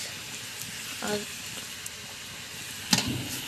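Chicken and onion sizzle softly while sautéing in a pan, a quiet steady crackle broken by a few stirring knocks, with someone speaking over the cooking.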